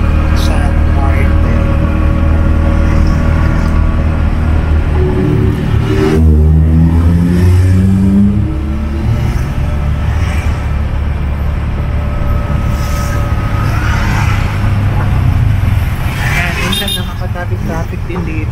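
Busy street traffic near Upper Calab market, with stopped vehicles idling, engines revving and passing, and occasional horn toots, continuous and loud while a person talks over it.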